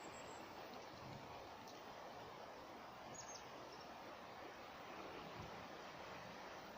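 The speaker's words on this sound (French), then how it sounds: "Quand vos oreilles écouteront et réentendront le bruit de l'eau" Ocean waves wash continuously in a broad, steady roar with a touch of wind noise and faint occasional bird calls, heard alone without speech.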